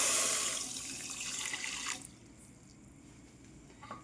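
Water pours into a bowl of sugar with a bright splashing rush for about two seconds, then stops, leaving a quiet room with a faint drip.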